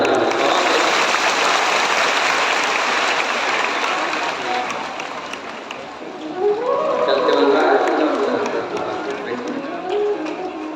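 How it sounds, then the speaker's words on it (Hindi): Loud crowd applause from a large audience at a Shiv Mahapuran katha in Korea, Chhattisgarh, filling the whole clip as a dense, steady wash of clapping, with a brief swell of voices or shouts toward the end. "एक बार जोरदार ताली।"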